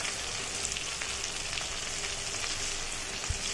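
Tomatoes and spices with red chilli and turmeric powder frying in a pan for potato curry, a steady close sizzle without pause and no voices.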